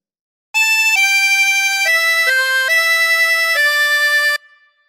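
A 24-hole tremolo harmonica plays a phrase of the hymn "Jesus Loves Me," a run of steady, wavering reedy notes held in sequence, clear and close, ending in a short fade.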